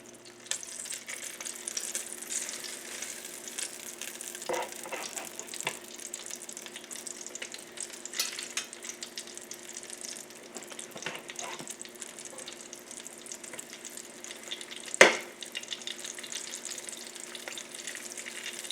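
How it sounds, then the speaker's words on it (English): Steady sizzling of ground chicken patties frying in a pan, a continuous crackling hiss with a few louder pops and a sharp clatter near the end. "Okay, you can hear that sizzle."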